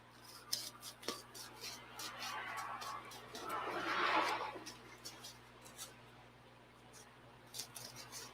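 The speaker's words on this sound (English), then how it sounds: "these Teflon scissors have been awesome for this sort of stuff" Teflon scissors cutting through gummy material, faint crisp snips and rasping scrapes spread across the stretch, with a louder slicing swell in the middle over low background hum.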